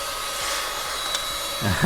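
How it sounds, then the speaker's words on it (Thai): A mini cordless handheld vacuum cleaner runs in blower mode, a steady close whine with airy rushing that holds throughout and rises in a brief surge at the end. "เครื่องดูดฝุ่นมินิไร้สายดูดฝุ่นได้เป่าฝุ่นได้"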